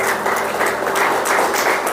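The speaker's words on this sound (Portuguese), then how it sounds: "vamos aplaudir Jesus que Ele merece" A Portuguese-speaking church congregation applauds Jesus, a short, loud, dense burst of clapping that holds steady through the moment.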